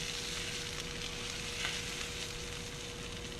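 Pork chop sizzling in a pan during a reverse sear, a steady close frying hiss with faint crackles, heard alone without talk.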